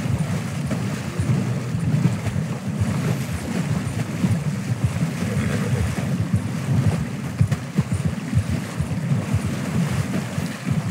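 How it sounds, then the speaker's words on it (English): A horse wades through water in Red Dead Redemption 2, a continuous splashing and sloshing wash with a loose, uneven rhythm, fairly loud and close, without talk. "We'll just walk through the water."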